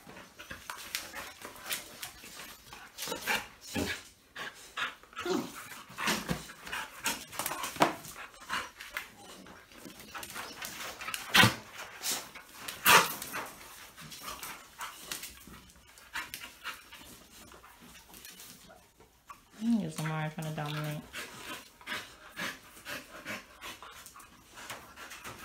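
A tired dog pants steadily after play, with occasional whimpering and a short whine near the end, heard close up in a quiet room.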